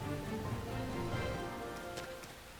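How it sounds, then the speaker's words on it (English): Steady, dense rainfall hisses continuously in the video game Xenoblade Chronicles X, a broad wash of falling water with a few faint droplet ticks near the end. "Now that rain is quite loud"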